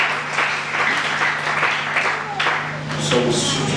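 A church congregation applauds with steady, dense clapping that lasts throughout, with a voice talking over the applause.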